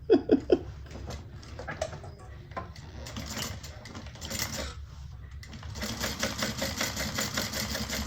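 A sewing machine runs top stitching on a handbag, a steady mechanical whir with a few sharp knocks at the start and louder, busier running in the final seconds.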